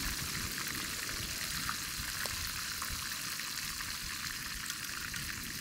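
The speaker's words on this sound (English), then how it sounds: "Should be a pretty quick fry up" Fish and chips frying in hot oil outdoors at Jamaica Beach, a loud, continuous crackling sizzle that holds steady throughout without any voices.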